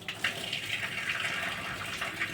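Water gushes steadily through newly repaired bathroom piping during a trial run, a close hissing flow with faint splashes and no voices.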